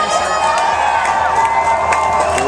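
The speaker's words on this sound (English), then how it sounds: "We'll wait out the cheer." A loud crowd cheers and whoops continuously at an Occupy San Diego rally, close by and steady throughout with no pauses.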